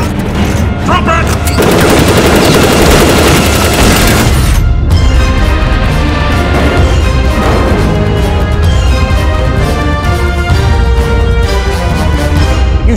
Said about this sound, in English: Where the hell did you get an automatic weapon?